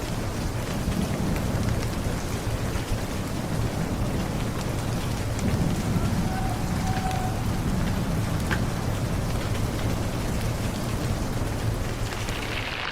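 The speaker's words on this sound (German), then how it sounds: "Es donnert immer noch. Es schüttet schon wieder." Heavy rain pours steadily during an alpine thunderstorm in the Dolomites, a dense loud hiss of rain with low rumbles of thunder underneath and no voices.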